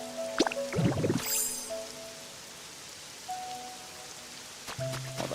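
Rain patters steadily in the video game Pokopia, with scattered drip-like taps over a soft wash, plus a few brief game tones and chimes, no talking.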